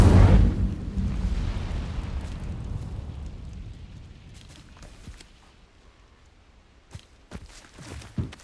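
A fire spell cast in a Harry Potter wizarding video game, opening with a loud whooshing burst that rumbles and fades over several seconds, followed by a few faint scattered pops and thuds.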